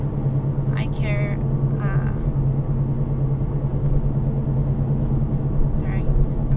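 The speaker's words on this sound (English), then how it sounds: "Sorry, I'm driving." Steady low engine rumble and road noise inside a moving car, continuous throughout at moderate level, with occasional faint higher sounds over it.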